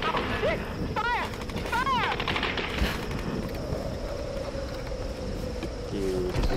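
Gunfire crackles through a firefight in the Tomb Raider video game, sustained shots under a loud battle din with rising and falling whistling tones and voices shouting over the action.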